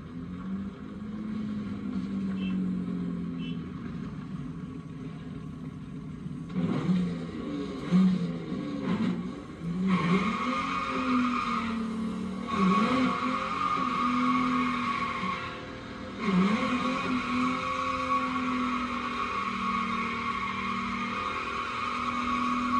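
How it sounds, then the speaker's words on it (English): A 1987 Buick Grand National GNX doing a burnout: steady engine drone with squealing tires that surge in bursts from midway on, loud and fairly close, with no talk. "let's see how it does with the burnout"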